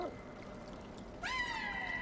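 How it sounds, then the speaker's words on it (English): Meowing of a cat in a video game, a single rising, harmonic call that starts partway in and holds steady to the end, fairly loud over a quieter background murmur. "No, it's definitely meowing."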